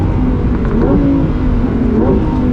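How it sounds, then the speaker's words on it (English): The engine of a 2023 Lamborghini Huracan Tecnica revs hard and loud from inside the cabin, rising steadily in pitch, with a brief change in tone as the transmission upshifts at redline in sport mode. "the transmission will auto upshift at redline in sport mode"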